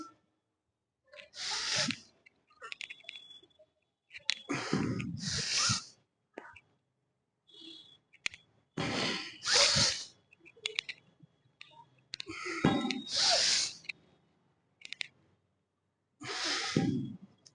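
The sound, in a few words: heavy breathing during exercise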